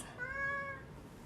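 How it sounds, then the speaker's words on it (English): A cat gives a single short meow in the background, soft and somewhat distant in an otherwise quiet room, with no talking over it. "because I can hear the cat"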